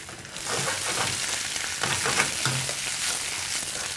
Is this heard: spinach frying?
yes